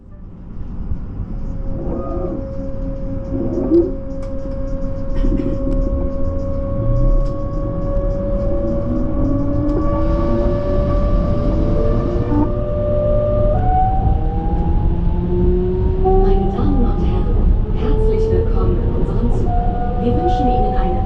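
A Class 425 electric train runs on the Rot Valley Railway with a rising and falling motor whine, tones gliding up and down over a steady rumble, and a voice announcing over it.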